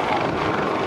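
A helicopter flies at a 2012 naval air station airshow, its rotor and engine a loud, steady broadband roar filling the short moment with no break.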